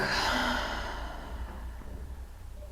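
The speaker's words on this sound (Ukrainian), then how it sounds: "І видих через рот." A single soft, breathy exhale through the mouth during a yoga breathing exercise, fading gradually over a couple of seconds, close and quiet.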